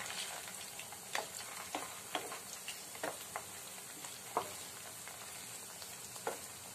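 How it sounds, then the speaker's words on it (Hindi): Chilli chicken pieces fry gently in oil over a low flame, a soft steady sizzle broken by small crackles and pops every half second or so, quiet and close with no voices. "आप इसे बिल्कुल लो फ्लेम पे ही फ्राई करिएगा ताकि ये अंदर से जो है ये जूसी हो और बाहर से क्रिस्पी लगे खाने में।"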